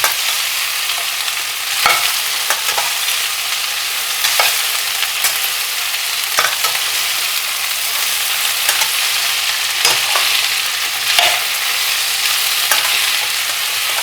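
Okra (bhindi) stirred as it fries over a high gas flame, a steady bright sizzle with scraping spatula strokes recurring every second or two, close and continuous.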